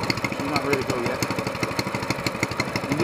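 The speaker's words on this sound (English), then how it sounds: "You just let the engine sort of settle before you start running it up." An SPS longtail boat engine fitted with an exhaust header idles after starting, a steady rapid chugging putter held close and loud, with someone talking over it.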